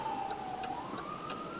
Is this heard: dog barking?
no